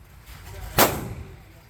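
A single loud, sharp Glock pistol shot at an outdoor shooting range cracks out, then a short decaying echo over faint background noise.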